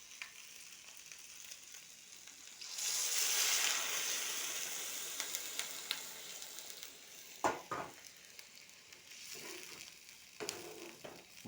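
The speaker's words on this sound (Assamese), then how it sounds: "এতিয়া ইয়াতে অকণমান পানী দি দিম, যিহেতু ফ্ৰাই কৰা হৈ গ'ল ভালদৰে।" Water poured into a pan of fried chicken curry sets off a sudden, loud burst of sizzling steam that slowly settles into a softer bubbling hiss, with scattered clinks of a spoon against the pan.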